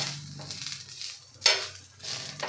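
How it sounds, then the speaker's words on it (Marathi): White sesame seeds and dried coconut roast in a pan, with a faint sizzle and a few soft scrapes of stirring, quiet and close, with brief louder rustles. "2 मिनिटे फक्त आपल्याला भाजून घ्यायचं आहे"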